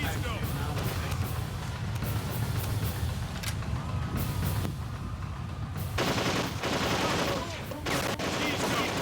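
Gunfire in the Darkest of Days video game forms a dense, continuous clatter of rapid shots and bursts, with loud automatic fire layered over a busy battle din and voices calling out throughout.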